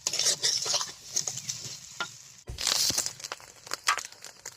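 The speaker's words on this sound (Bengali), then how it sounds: "ডিম ভাজতে বেশি সময় লাগে না" Fish roe frying in a pan with a steady sizzle, broken by stirring scrapes and crinkly crackles, close and fairly loud, with a brief break midway.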